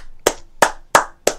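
Four sharp hand claps ring out close and loud at an even, unhurried pace, each a crisp isolated smack with a short decay and silence between.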